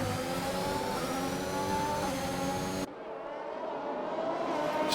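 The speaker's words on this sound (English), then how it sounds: "Just look at how close these cars are battling." Race cars in a close battle at Imola in a racing video game, one steady engine drone holding a high whine that cuts to a different lower engine tone midway, loud and continuous with no talking.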